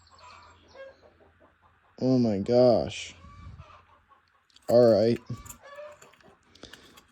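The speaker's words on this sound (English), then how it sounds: "those chickens are pissing me off now, too" Nearby chickens cluck loudly in two bursts of rapid, repeated calls separated by quieter stretches, while someone speaks briefly during the gaps.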